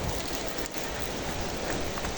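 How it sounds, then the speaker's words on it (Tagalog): Steady rain pours down in a dense, even hiss of drops hitting surfaces, close and continuous with no voices. "umuulan."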